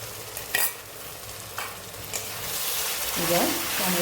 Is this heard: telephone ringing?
no